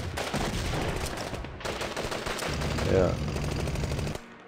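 Engineers' gunfire in the war strategy game People's General, a dense run of rapid shots and bursts under a man's short spoken remark.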